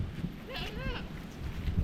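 A single wavering bleat from a newborn, premature goat kid rises briefly over a noisy outdoor background, moderately close.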